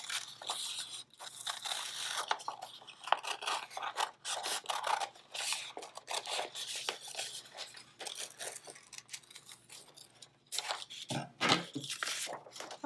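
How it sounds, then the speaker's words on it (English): Scissors snip through paper while a unicorn craft shape is cut out, giving a steady run of close, rasping cuts and rustles with a brief pause near the end. "I'm going to go ahead and cut that out."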